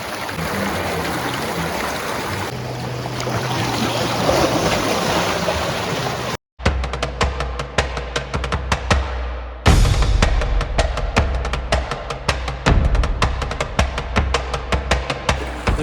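Flowing water from a creek in Monkey Canyon along Big Tujunga Creek in the Angeles Forest, a steady broadband rush heard close up. It cuts out briefly midway, then returns as a denser, crackling flow with scattered splashes.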